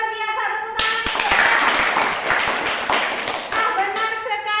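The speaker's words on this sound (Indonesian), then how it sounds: "Oke, luar biasa, tepuk tangan." A classroom group of teachers claps together in a dense burst of applause for several seconds, fairly loud and close, with a voice talking before and after.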